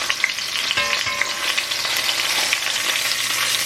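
Beef searing in bacon fat in a pan for a winter stew, a loud, close, continuous frying crackle and hiss with a brief clunk of metal partway through.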